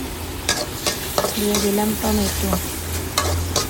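Ginger-garlic paste stirred and frying in a pan while cooking a prawn curry with bottle gourd, with repeated scraping stirs and a steady low sizzle; someone speaks briefly over it.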